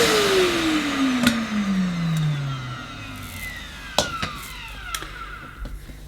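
A Millenea Apollo 1 egg-shaped vacuum cleaner's motor gives a close whine that slides down in pitch, then settles into a low hum broken by a few sharp clicks.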